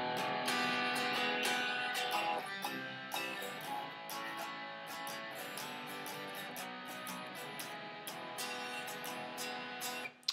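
An electric guitar plays the chorus riff of a song on the top strings, with strummed downstrokes repeating in a steady driving pattern, fairly quiet and uninterrupted by speech.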